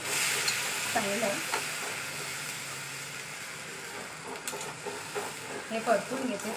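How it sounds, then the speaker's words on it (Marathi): Broad beans (val) with raw tomato and onion stirred in a hot tempering, giving a steady close sizzle with scraping stir sounds and brief speech-like bursts near the start and end. "हे परतून घेते चांगल्याने या फोडणीमध्ये."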